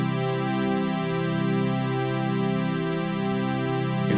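Ableton Live Drift synth in stereo mode with its voices panned apart, a continuous rich harmonic tone whose overtones slowly shimmer and phase, steady and loud with no voices.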